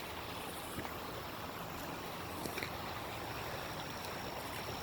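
A river flows steadily outdoors, a constant broadband wash of moving water with no distinct breaks, heard up close and fairly quiet throughout.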